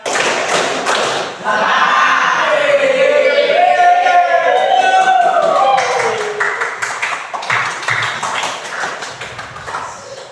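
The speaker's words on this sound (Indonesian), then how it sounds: "Tiga kali tepuk tangan." Students in a classroom clap hands together on a teacher's cue, loud bursts of clapping followed by scattered taps while voices chatter and call out over them.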